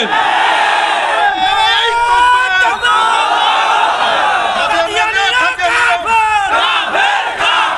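A large crowd at an Islamic mahfil gathering shouts slogans in loud, rhythmic unison, with a lead voice calling and many voices roaring back in repeated waves that continue throughout.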